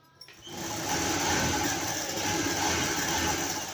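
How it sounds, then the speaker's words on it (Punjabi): A sewing machine starts up after a moment and runs continuously, stitching the lining onto a salwar waistband in a steady, close whir. "ਹੁਣ ਆਪਾਂ ਇਸ ਤੇ ਸਲਾਈ ਲਗਾ ਦੇਾਂਗੇ"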